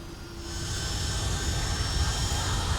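Flight Factor 757-200 airliner on final approach in the X-Plane 11 flight simulator, a steady loud jet engine roar with low rumble filling the whole stretch.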